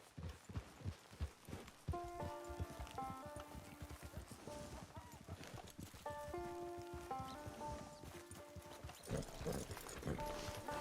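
Steady clip-clopping hoofbeats of a horse in the game Red Dead Redemption 2 Online, moderately close, running under layered background music.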